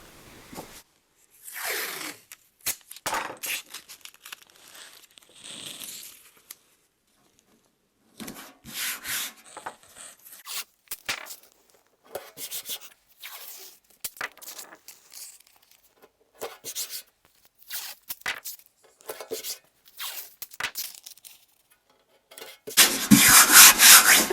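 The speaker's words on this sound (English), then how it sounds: "lay down some blue tape, and that will make it easier for you" Blue masking tape being pulled off the roll and pressed down onto an avionics tower panel, giving repeated sharp tearing and rubbing bursts with short gaps, close and loud, ending in a longer rough burst.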